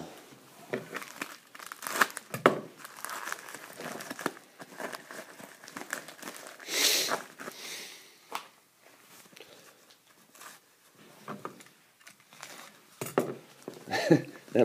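Sharp blade slicing open the packaging of a PSA graded card mailer, with scattered crinkles, scrapes and plastic rustles in short bursts and pauses, close and fairly quiet.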